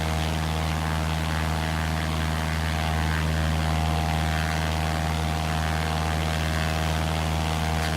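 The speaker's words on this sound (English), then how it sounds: "You can actually hear there the more 3D sound effect that you get in X-Plane 11 with a well-mapped aircraft as you turn your head round." A simulated Cessna 172 propeller engine in X-Plane 11 drones steadily and loudly in flight, a continuous buzzing hum with strong tonal harmonics and no break.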